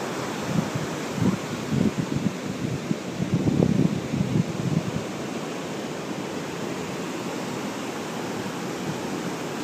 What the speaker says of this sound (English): What I have here for you today is the beautiful Silver Strand State Beach